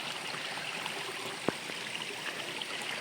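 Water gushes from a full 20 mm pipe near a stream intake tank, a steady, moderately loud rushing flow with one brief sharp knock in the middle.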